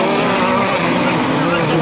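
A touring car engine roars past at high revs in a race final at Saint-Georges, 2014, loud and continuous, with a commentator's voice partly mixed in.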